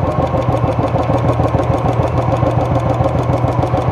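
A Royal Enfield BS4 motorcycle engine idles with a steady, even thump and loud close mechanical rumble while its RPM is being adjusted, with no talk.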